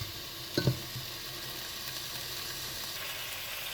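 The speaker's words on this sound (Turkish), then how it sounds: "Hızlı bir şekilde tenceremize tavukları ekliyoruz. Arkalı önlü kızartma işlemi gerçekleştireceğiz." Chicken pieces sear in hot oil in a pot, giving a soft, steady sizzle. Near the start, a couple of brief clunks from the pot break through the sizzle, and no one speaks.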